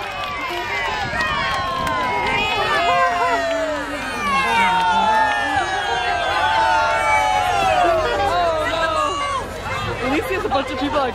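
A parade crowd cheering and shouting, with many overlapping voices, whistles and children's yells forming a dense, continuous roar close around the listener.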